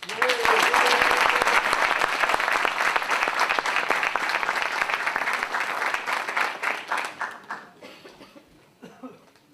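Audience applause greeting New York State Senate Minority Leader John Sampson at an institution event, a loud sustained burst of many hands that thins out and tapers away near the end, with a few coughs and some chatter.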